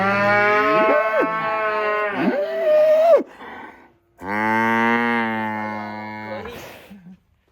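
Cattle in a pen moo loudly and close by, two long, drawn-out bellowing calls, the first wavering and rising, the second steady, with a short pause between.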